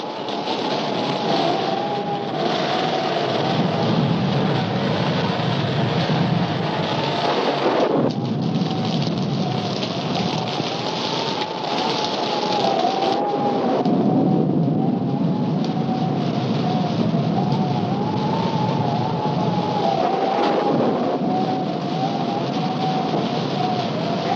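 A thunderstorm with steady heavy rain hissing throughout, with low rolling thunder rumbles swelling and fading in a continuous, loud wash, with no voices.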